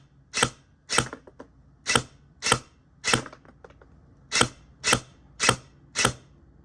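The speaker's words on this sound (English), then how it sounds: "we'll do a shooting test, show you how it sounds, how it shoots" Arcturus AK04 airsoft rifle fitted with a Gate Aster V3 firing ten sharp, snappy single shots at a steady, fairly quick rhythm, with a short pause midway; each crack is close and clean, with no other sound between.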